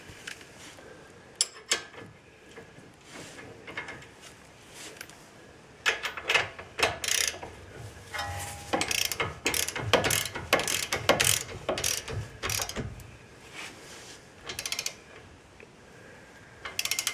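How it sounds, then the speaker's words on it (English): A torque wrench ratchets while a lower ball joint is tightened to 75 foot-pounds on a 2011 Hyundai Tucson, giving close, sharp clicking bursts that speed up and pause in irregular runs. "We're going to torque this one down to 75 foot-pounds."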